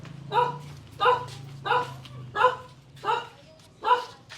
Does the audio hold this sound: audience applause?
no